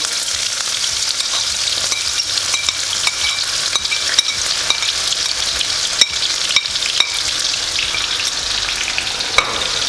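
Finely chopped onion fries in a hot pan for mutton paya, making a loud, continuous close sizzle with light stirring clicks throughout.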